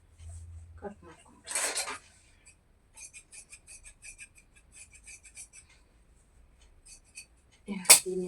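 Scissors cutting through old saree fabric to make a gown: a run of quick, light, evenly spaced snips at close range, with a louder rustle of cloth handling before them and a brief clatter at the end.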